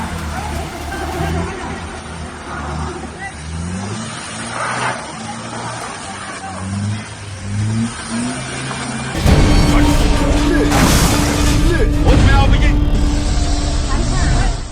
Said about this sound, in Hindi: ये तस्वीर देखिए, कैसे जमीन पर बिछी बर्फ ने इस गाड़ी को आगे बढ़ने से रोक दिया।